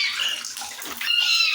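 Water runs steadily from a tap being turned back on for kittens to drink, a continuous hissing gush that stays fairly loud and unbroken throughout, with no voices.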